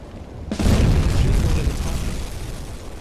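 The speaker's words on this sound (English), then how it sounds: "One of those torpedoes is going to hit." A torpedo strikes a ship in the submarine game UBOAT, a sudden loud explosion that booms and then rumbles on in a long, slowly fading roar with no talk over it.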